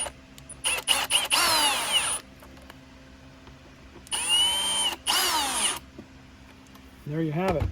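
A power drill drives screws back into an Oreck XL21 vacuum during a squeegee replacement, in loud, close bursts of whirring with short pauses between them and a brief final spin.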